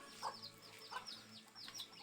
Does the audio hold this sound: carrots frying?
no